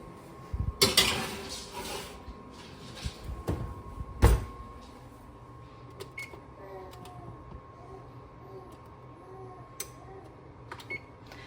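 In a home kitchen, sweet potatoes go into the oven: a pan clatters, metal clanks loudly, and the oven door thuds shut, followed by quieter scattered rattles and a faint steady hum.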